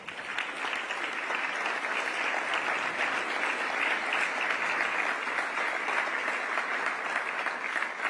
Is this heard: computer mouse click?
no